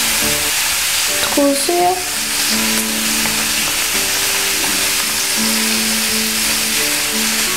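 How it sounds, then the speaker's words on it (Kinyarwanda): Food for agatogo fries in a pan with a loud, continuous close-up sizzle and crackle throughout, and brief stirring sounds and a short voice come early on. "tuzikarange"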